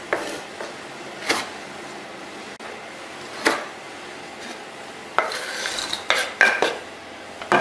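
Knife chopping cookies and cream biscuits with their cream filling for a cheesecake, heard as scattered sharp clacks and scrapes on a board, a few isolated strikes early then a denser cluster of quick knocks near the end.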